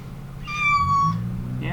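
A cat lets out one loud, drawn-out meow close by, starting with a brief chirp and fading into a lower sound over a faint background hum.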